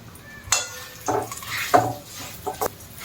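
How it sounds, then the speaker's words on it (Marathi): A spoon stirs spiced bitter gourd slices in a pan, giving a handful of separate scraping clinks against the metal with short quiet gaps between them, close and clear with no talk. "सर्व आपल्याला चमच्याच्या साह्याने हलवून घ्यायचं आहे"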